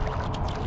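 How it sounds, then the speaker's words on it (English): Flowing water in the video game Myst remake: a brief, steady rushing pour, close and fairly loud, with no other sounds. "Water flow."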